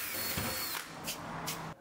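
A power drill with a smaller bit bores into a door while a handleset and deadbolt are being installed. It gives a steady, close, grinding whine lasting under two seconds, with no voices.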